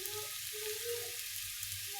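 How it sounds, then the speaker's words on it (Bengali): Potato bhaji frying in a pan gives off a steady, soft sizzling hiss, faint and unbroken throughout, with a low kitchen hum beneath and no speech. "আমার আলু ভাজি করা হয়ে গেছে"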